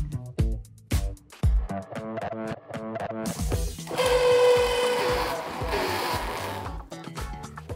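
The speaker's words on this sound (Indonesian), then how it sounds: "Ini semua kita haluskan ya" A kitchen blender grinds shallots, garlic, turmeric, ginger and candlenuts with added water into a spice paste, a loud whirring burst in the middle of the clip with music and clattering around it.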